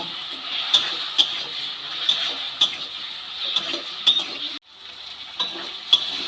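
Green tomatoes fry with turmeric and salt in a pan, giving a steady close sizzle broken by sharp spatula scrapes and taps at irregular intervals, with a brief drop to near silence partway through.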